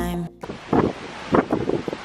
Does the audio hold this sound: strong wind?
yes